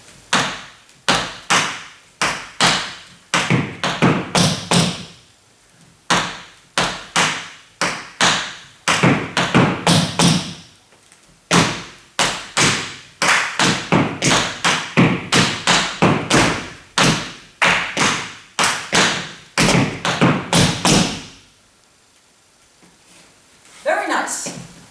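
Jazz tap dancing steps at a flashmob, with crisp rhythmic taps in quick bursts and pauses, loud and close, ending in a brief silence with a few final taps.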